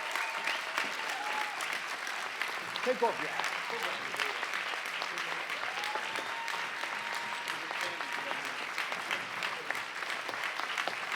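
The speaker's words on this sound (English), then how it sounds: "Can we have a round of applause for these guys?" A conference audience at a reentry panel applauds continuously, dense even clapping throughout, with a brief spoken remark heard over it.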